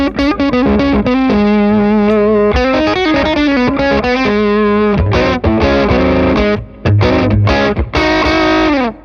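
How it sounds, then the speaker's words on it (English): Electric guitar played on a Strat through a low-gain Dumble-style overdrive pedal, gain set very low, tone at middle: mildly driven chords and single notes ring out in a steady phrase, with short gaps, no talking. "that's quite a nice low gain overdrive sound"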